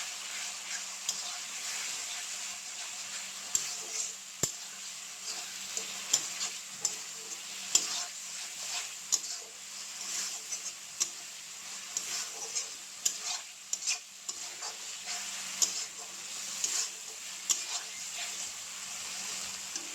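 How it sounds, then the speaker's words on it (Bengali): Spice masala frying in a pan gives a soft, continuous sizzle, while a spoon stirring it scrapes in a steady rhythm throughout, close by and fairly quiet. "মশলাটা এইভাবে করে আস্তে আস্তে ভালোভাবে ভাজতে হবে"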